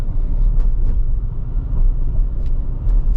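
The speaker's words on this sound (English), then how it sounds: "A lot of rattles, a lot of vibration, a lot of NVH over this rougher road here." A 2024 Toyota Tacoma TRD Off Road rumbles over a rough road, heavy low road noise and vibration from inside the cab with faint light rattles ticking through, continuous and loud, no talking.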